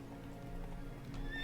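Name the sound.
horse Roach neighing in a video game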